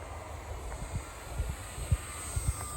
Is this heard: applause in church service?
no